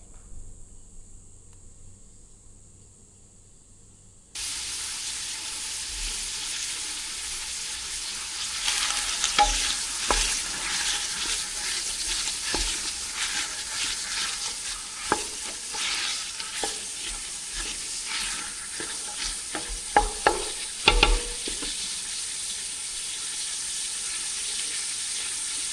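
Onions fry in olive oil in a pan for a Bolognese or chilli base, giving a steady close sizzle with occasional stirring scrapes and clicks. There is no talk.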